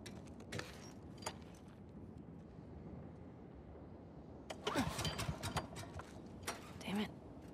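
A generator in The Last of Us Part II sputters and cranks to life, a mechanical engine start with rattling bursts over a low hum, loud and close in an otherwise quiet space.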